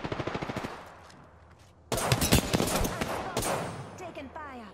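Bursts of rapid automatic gunfire ring out in Apex Legends, first a quick even rattle, then a louder, denser volley with echoing impacts, close and loud.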